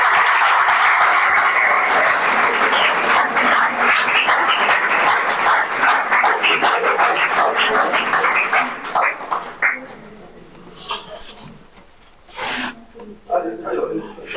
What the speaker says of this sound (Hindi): सभी बच्चे एक बार जोरदार तालियां बजाएंगे